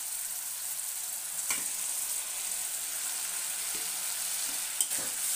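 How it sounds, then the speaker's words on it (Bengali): Spice paste (masala) stirred and sautéed in a pan for an egg curry: a steady, close frying sizzle with occasional scrapes of a spoon against the pan. "এখন মশলাটা ভালো করে কষাতে হবে"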